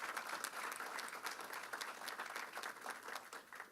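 Faint applause from a gathering honoring Community of Hope AME Church, sustained scattered clapping heard at a distance for a few seconds.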